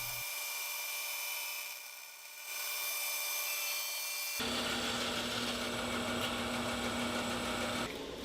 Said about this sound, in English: And this is the final slice off the board.